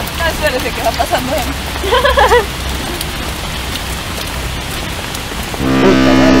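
Steady rain falls throughout as a dense wash of patter, with people talking over it early on; near the end a loud tonal horn-like sound cuts in.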